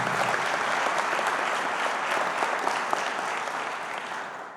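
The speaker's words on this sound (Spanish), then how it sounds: "Si le va a aplaudir, apláudale fuerte al Rey de Reyes." A church congregation claps steadily and loudly throughout, a dense continuous wash of applause with no voices rising above it, tapering slightly at the end.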